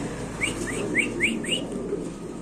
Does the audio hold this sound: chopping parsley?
no